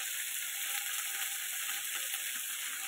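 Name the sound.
seeds and eggplant frying in a pan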